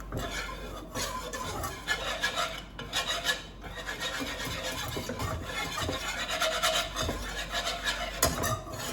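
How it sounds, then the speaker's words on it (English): A whisk stirs flour into melted butter in a pan for a vegetable casserole, making a continuous close scraping and rubbing with quick rhythmic strokes and no voices. "I'm gonna stir in the flour with the butter. I'm gonna whisk that."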